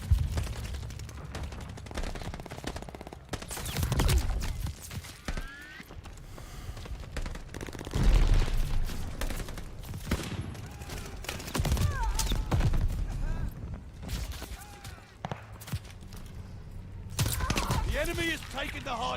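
Video-game gunfire at a hard point in Call of Duty Vanguard: dense bursts of automatic and single shots crackle throughout, loud and close, with explosions and game voice lines mixed in over a busy battle din.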